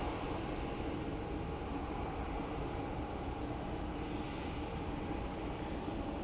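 A Delta Airlines jet moving fast along a taxiway at Phoenix Sky Harbor airport, heard as a continuous, steady engine roar with a broad rumbling drone that holds even throughout.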